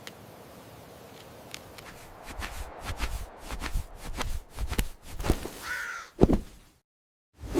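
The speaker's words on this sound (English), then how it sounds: "Crows are smart blackbirds found everywhere." A crow caws several times in a row among light rustling and clicking sounds, then everything falls briefly silent.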